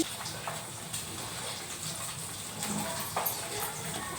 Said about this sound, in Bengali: চলো চালটা ধুয়ে তুলে দিই।